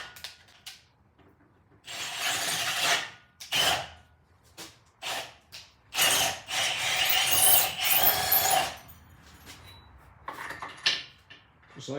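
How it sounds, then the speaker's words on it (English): Bursts of grinding, whirring drilling out a metal track bar mount on a 1987 Jeep come in several separate runs, loud and close, with quieter scraping and handling noises between them. "So I'm gonna drill this out, work my way up, try and make it a nice tight fit"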